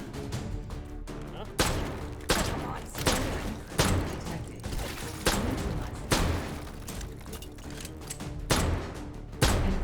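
Gunfire in the VR shooter H3VR: heavy, booming shots at an uneven pace, some in quick pairs, loud and close over a dense background, with a voice faintly present.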